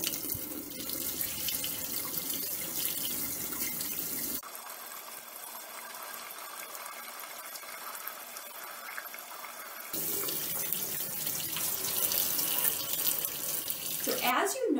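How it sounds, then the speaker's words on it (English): Tap water runs in a sink while an egg is rinsed under it, a steady splashing hiss that pauses briefly before resuming, with quieter moments between. "when I was rinsing the egg under the water, I was gently rubbing the outside of it to remove the white film"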